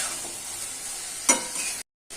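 Fish is stirred into spice masala in a frying pan, with a steady sizzle from the hot oil and a single sharp scrape of the utensil before a short break in the sound.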